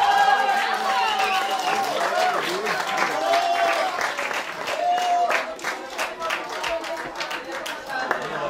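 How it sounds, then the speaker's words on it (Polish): A crowd applauds at the award ceremony of a 10 km road race in Cieszanów. Steady clapping runs throughout, mixed with an announcer's amplified voice and crowd chatter. "Wielkie brawa."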